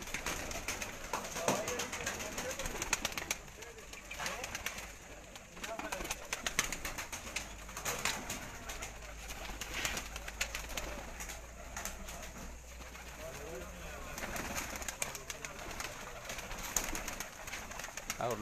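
Racing pigeons coo repeatedly, low rhythmic calls close by throughout, with a voice talking in the background.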